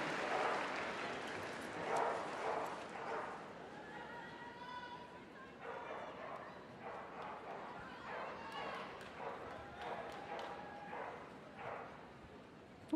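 A Portuguese water dog barks in a noisy indoor arena at a dog show, several sharp yaps scattered over crowd chatter and echoing hall ambience, with a commentator's voice running over it.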